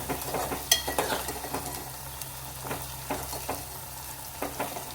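Ginger garlic paste fries quietly in oil for a colocasia tamarind stew, a soft steady sizzle broken by repeated scraping stir strokes and light metal clinks, with no voices.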